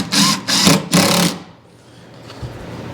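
A power driver sinks 1¼ inch screws into the end of a cherry cabinet, giving three short, close whirring bursts in quick succession, then a quiet stretch with a faint knock.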